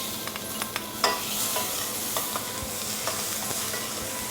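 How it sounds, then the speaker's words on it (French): Crushed tomatoes sizzle in a spiced pan for a langoustine medallion dish, a steady frying hiss broken by sharp spoon clicks and stirring scrapes, close by and with no voices. "Ensuite, vous rajoutez vos tomates concassées."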